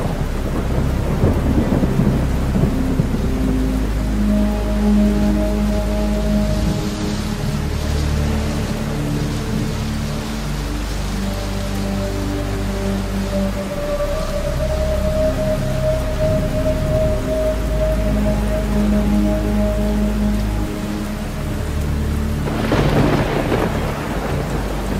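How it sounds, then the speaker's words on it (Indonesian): Heavy rain pours steadily with rolling thunder rumbling low throughout, and a sharper crack of thunder bursts out near the end, loud and continuous with no talking. "cuaca hujan petir gede"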